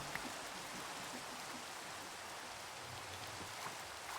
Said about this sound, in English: Raining in Tokyo.